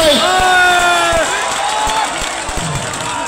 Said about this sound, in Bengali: মিঠুন দার জন্য জোরে হাততালি হয়